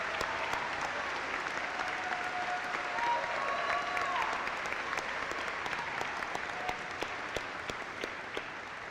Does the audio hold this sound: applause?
yes